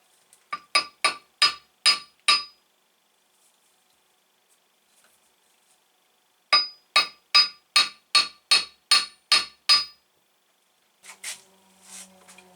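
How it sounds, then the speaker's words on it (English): Two bursts of light, evenly spaced metallic hammer taps during a Rieju RR50 engine and gearbox assembly, six then eight, separated by silence, followed by faint rustling. "I might need a gentle tapping with a hammer."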